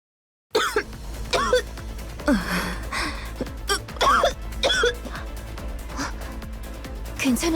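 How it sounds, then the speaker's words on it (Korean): A character coughs and clears their throat in a dramatic story scene of the game Nikke, a few harsh bursts spread across several seconds over a steady background music bed. "기침 한 번 안 하더니 그렇게나 참고 있었나?"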